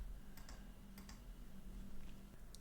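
Keys on a computer keyboard clack in a short, uneven run of taps over a low background hum, fairly close and moderately quiet.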